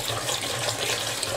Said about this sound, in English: I like to rinse my meats and my vegetables